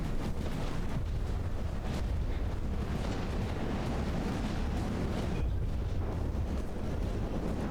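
Torpedoes striking a ship in the naval combat game From the Depths: a steady, dense, roaring wash of rumbling explosions and churning water with no letup, loud and continuous throughout.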